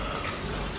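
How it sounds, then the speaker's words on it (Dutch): Shower running in a hotel in Bali, a steady close hiss of spraying water that fills the whole short stretch without a break. "En Nes heeft hier de massage gehad en is nu aan het douchen."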